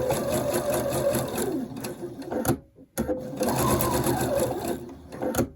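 A sewing machine stitches a fabric face mask in steady, fast whirring runs, pausing briefly midway for a reverse stitch before running on again, close and loud.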